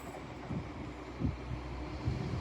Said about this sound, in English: Departing now will be your 1223 Northern train service to Blackpool North